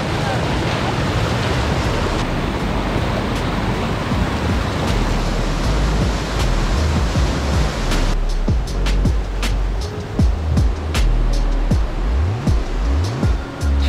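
Mountain valley stream at Guryong Valley on Jirisan, water rushing steadily and loudly over rocks in a constant broadband wash, with a few brief clicks and bumps near the microphone toward the end.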